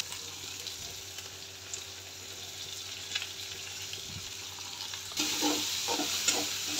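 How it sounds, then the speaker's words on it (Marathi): Chopped onion frying with plenty of garlic in a pan for a raw mango chutney, a steady close sizzle with scraping stir strokes that grow louder and busier toward the end, no voices. "छान असं कांदा मऊ होईपर्यंत चांगला परतून घ्यायचा."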